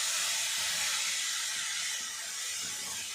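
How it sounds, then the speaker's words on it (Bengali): Grated carrot fries in ghee in a pan, giving a steady, dense sizzling hiss with faint low stirring rumbles beneath. "এবারে এর মধ্যে দিয়ে দেবো গ্রেট করা গাজর। গাজরটা কিছুক্ষণ নাড়াচাড়া করে ভাজা করে নেব।"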